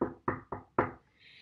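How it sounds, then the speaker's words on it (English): Four sharp knocks on a door in a quick, even rhythm, close and clear, followed by a faint high tone fading in. "but they knocked and they knocked."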